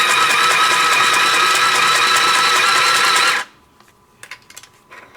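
A Singer Stitch Sew Quick 2 sewing machine runs loud and close in one continuous burst for about three seconds, then stops abruptly, leaving a few faint clicks and handling noises.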